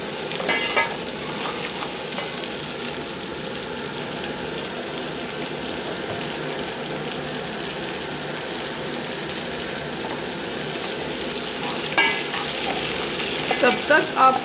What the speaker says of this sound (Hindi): तब तक आपको भूनना है हरी मिर्च एंड लहसुन को, जब तक आपकी गोल्डन ना हो जाए।